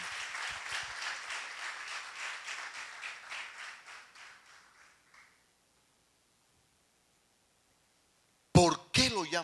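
A church congregation gives lively applause that gradually thins and fades to silence over about five seconds, followed after a pause by a brief burst of speaking.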